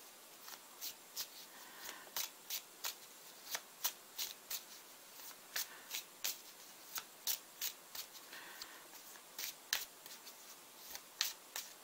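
Tarot cards being shuffled and picked by hand, a series of soft, close riffling snaps repeating at a fairly steady rhythm against a quiet background.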